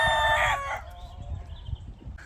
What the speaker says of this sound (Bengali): এই পাশে একজন মুরগি পোষেন, মোরগ মুরগি।